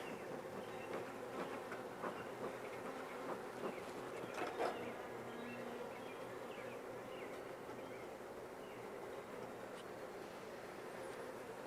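Honey bees buzz in a soft, steady drone at a starter hive, close but faint, with occasional light knocks of frames and no talking.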